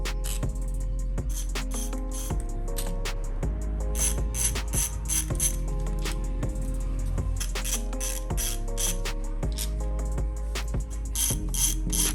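A ratchet wrench clicks loosening the primary cover bolts on a Harley-Davidson Dyna motorcycle, rapid close metallic pawl clicks in repeated bursts over a steady low hum, with no talk.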